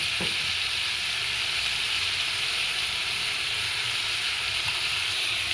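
Goat meat scraps fry in hot oil with ground coriander, cumin, salt, chili and turmeric, a steady, close, bright sizzle that hisses evenly throughout with no talking.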